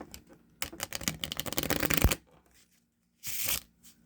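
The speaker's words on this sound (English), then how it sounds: "So I'm going to shuffle this deck up nice and good." A deck of playing cards riffled quickly with rapid fluttering clicks, then a short second riffle after a pause.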